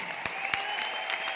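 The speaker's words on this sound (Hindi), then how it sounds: "शानदार वाली तालियां होनी चाहिए" Light applause from an audience at an indoor business event in Bhopal, a thin spread of claps with a couple of sharper individual hits and a steady tone in the background.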